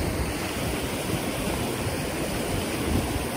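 A river in El Salvador rushes past nearby, a dense, even roar of flowing water that holds steady throughout with no voices.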